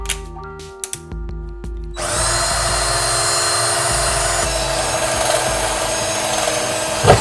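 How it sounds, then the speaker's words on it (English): Power drill boring into metal with water poured on to cool the bit: a few short bursts of the motor, then a steady, loud, grinding whine that runs without a break. "I think I need to drill a smaller hole first."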